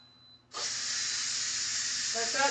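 Steam hisses loudly and steadily out of a pot of cooked potatoes, starting abruptly and continuing without a break, with faint kitchen clatter near the end.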